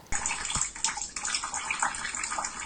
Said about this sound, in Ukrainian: Вода тут лилася зі стелі.